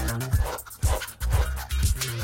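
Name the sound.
stressed pug dog panting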